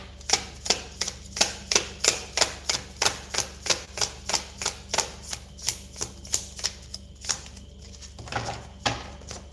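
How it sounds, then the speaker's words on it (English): Stiff tarot cards are riffled and snapped in a steady run of crisp, evenly spaced clicks, close up, continuing for several seconds with no talking. "These are a bit hard to shuffle, these cards."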